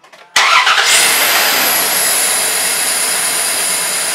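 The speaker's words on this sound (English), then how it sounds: "So my assistant Tiergan is going to start the engine." An old car engine starting after a distributor cap and rotor tune-up: a short cranking burst catches and fires right up into a loud, steady, close idle with a high whine, and no one speaks.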